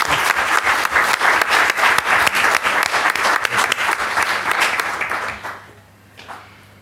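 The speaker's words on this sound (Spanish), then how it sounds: "¿Le damos un aplauso a Marcelo?" Dense, steady applause from an audience at a university plenary session, loud and continuous for several seconds before quickly fading to near silence.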